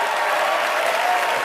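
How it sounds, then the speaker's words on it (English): Dense, loud audience applause at a business opportunity event, a brief continuous burst of many hands clapping. "give them a round of applause"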